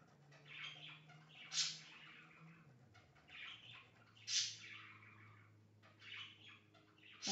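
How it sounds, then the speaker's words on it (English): Pet birds chirp indoors in short bursts of bright, high tweets every couple of seconds over a steady low hum, fairly faint and with no voices. "my birds have not shut up the whole time I've been talking"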